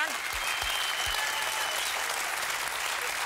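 A German late-night talk show studio audience applauding warmly, a dense continuous roar of clapping that holds evenly throughout, with a few faint low thumps at the start.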